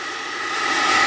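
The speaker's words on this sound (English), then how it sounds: "let's start off with the hairdryer," A hair dryer blows hot air onto scratched car vinyl in a garage, a constant close whooshing roar that swells slightly louder over its short run.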